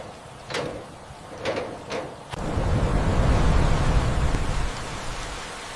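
A few faint taps and knocks come first, then steady rain rises into a broad, constant hiss that stays moderately loud for several seconds.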